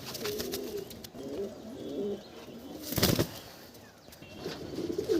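Pigeons in a loft cooing in low repeated calls, with a sudden burst of wing flapping near the middle and more cooing after, close and fairly quiet.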